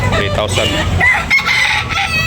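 A rooster crows amid the bustle of a chicken market in Carbon, Cebu, its call rising briefly over close, steady vendor chatter and haggling voices.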